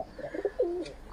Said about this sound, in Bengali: 4টে কবুতর আপনাদেরকে দেখাবো।